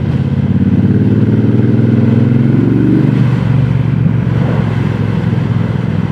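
A 2026 Triumph Bobber 1200 motorcycle being ridden, its engine droning loudly and continuously close by, with the pitch easing slightly partway through and no one talking.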